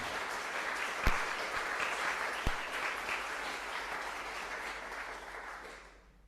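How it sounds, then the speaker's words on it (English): A church congregation gives steady, fairly distant applause to welcome new members during a service. The dense clapping holds even throughout and fades out at the end. "let's give one last round of applause for our new members"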